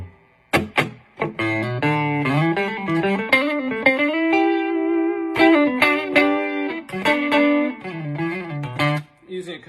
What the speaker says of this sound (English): After the Tim pedal, I go into a full tone Deja vibe.